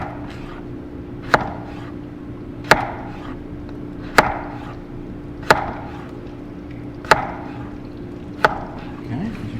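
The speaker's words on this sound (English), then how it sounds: "we're going to slice our potato very thin, relatively the same thickness of our onion" A kitchen knife slices a potato very thin on a cutting board for a French country omelet, giving six crisp, evenly spaced cuts close by with a soft hum between them and no talking.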